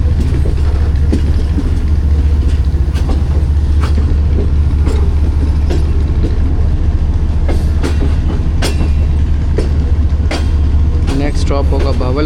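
The Pak Business Express passenger train runs through Punjab with a loud, continuous low rumble and rhythmic clickety-clack, heard from inside the carriage.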